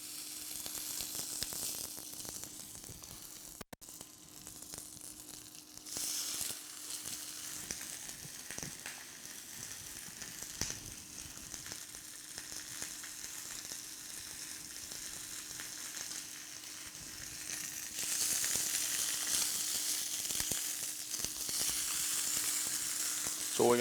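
Chicken pieces sear skin side down in a hot pan for chicken adobo, giving a steady, even sizzle that swells louder near the end.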